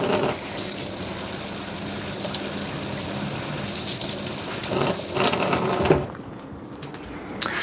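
Tap water runs steadily over frozen-thawed tofu being rinsed at a sink, a continuous gushing splash that cuts off near the end.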